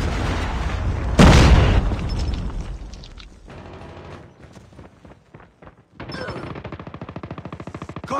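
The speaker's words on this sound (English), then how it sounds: "Friendly predator missile inbound." In a Call of Duty Mobile hardpoint match, a predator missile strike lands with a loud, close boom, followed by a quieter spell of scattered gunfire. The clip ends with rapid, steady machine-gun bursts.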